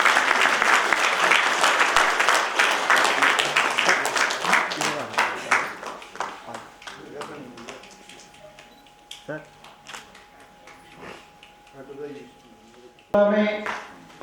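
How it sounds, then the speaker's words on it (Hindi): Audience applause at a university convocation: dense, loud clapping fills the first six seconds, then thins into scattered claps and fades, followed by quieter hall sounds and a brief voice near the end. "Please give me big round of applause."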